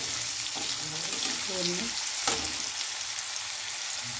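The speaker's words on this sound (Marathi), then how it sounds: "कांदा घालून छान परतून ठेवा।" Chopped onion sizzling in oil in a pan while being stirred, a steady crackle with a few scrapes and clinks of the spoon, and a brief voice speaking over it.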